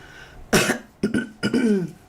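Someone clears their throat with a few rough, abrupt bursts, the last one drawn out into a gravelly hum, close up.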